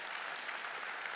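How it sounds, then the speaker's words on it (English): An audience at a magic and mind-reading show claps in a soft, continuous patter that sounds faint and a little distant and lasts only a moment. "Round of applause if you have, yes?"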